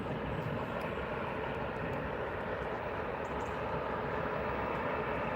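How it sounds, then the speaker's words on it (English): An Airbus A320 arriving from Milan Malpensa at Manchester Airport produces a continuous, fairly faint broadband jet rumble, steady with no clear rise or fall and no voices. "We've got a Airbus A320 coming in from Milan Malpensa."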